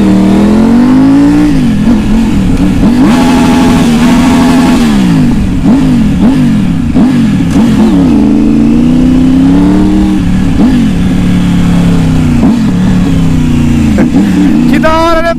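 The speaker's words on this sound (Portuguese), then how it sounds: "Vou acelerar." Car with a stainless straight-pipe exhaust revving hard up close, loud repeated throttle blips rising and falling over a rumbling idle, with people talking around it.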